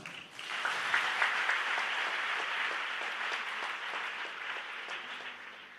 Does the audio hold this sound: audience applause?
yes